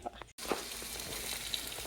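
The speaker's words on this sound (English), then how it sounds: "So I'll finish off so you can hear the sizzle." Bacon sizzles and crackles on a thick Steelmade USA flat top griddle used indoors, a steady close frying hiss with small pops, broken by a brief dropout near the start.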